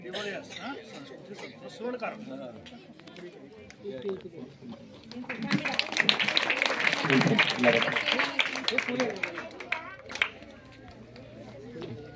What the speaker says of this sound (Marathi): टाळ्या वाजवायच्या विद्यार्थ्यांनी.